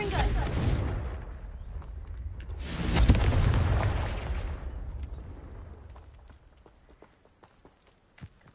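Two heavy booming blasts from a Confringo fire spell in a video game, each a loud rumbling burst that slowly fades, followed by quieter scattered clicks and taps.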